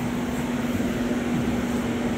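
Two electric fans running in a room beside a dog's bed, giving a steady close whirring drone with a constant low motor hum and airy hiss, unbroken for the whole stretch, with no voices.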